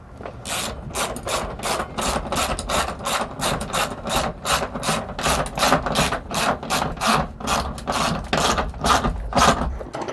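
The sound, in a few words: tightening nuts on D-ring anchor bolts with wrench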